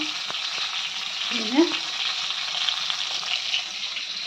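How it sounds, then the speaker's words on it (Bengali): Fish fries in a pan with a steady, moderate sizzle, broken by a brief voice-like sound and a few faint clinks. "আর এখন মাছ ভাজা করছে দেখো"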